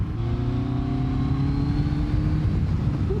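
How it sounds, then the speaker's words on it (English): A BMW K1300R big-bore motorcycle engine revving up from low RPM, a deep grumbling tone that rises steadily and stays loud and close throughout. "There's just something about a big bore engine when you're revving it from a low RPM. It's got that nice deep grumble in it."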